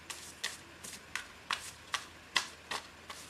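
Quick riffling bursts of tarot cards being shuffled, about eight short crisp flurries in a steady rhythm, close up and fairly quiet with no talking.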